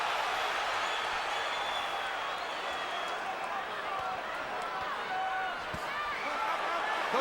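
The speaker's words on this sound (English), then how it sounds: "Crowd comes out of its seat for that one." A large boxing arena crowd roars during the Miguel Cotto versus Manny Pacquiao fight after a Cotto left hook, a dense, sustained wash of cheering and shouting that stays loud and steady throughout, with scattered sharp calls and claps rising from the mass.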